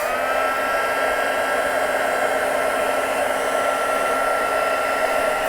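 A heat gun blows a steady, loud whirring roar without a break while it melts gold embossing powder on vellum, with no voices over it.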